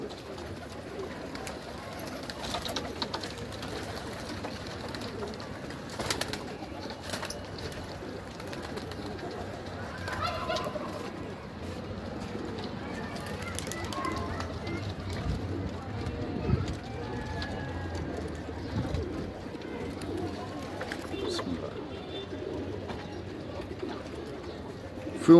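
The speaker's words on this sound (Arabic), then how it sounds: "دولت فيهم حمام كبير بيترمي على شويه شبابات صغيره" Pigeons cooing in a loft, a steady low murmur of many birds calling close by, with occasional wing flutters and shuffling, and no talking.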